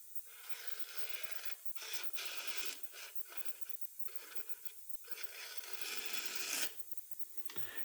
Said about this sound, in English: just whittle little curls off of there